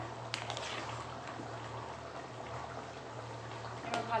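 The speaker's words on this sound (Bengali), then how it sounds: "ঝোলটা ফুটে গেছে" Fish curry broth with rui fish, jhinge and potato bubbles quietly in a pan, a soft continuous simmer with faint pops and a low hum beneath.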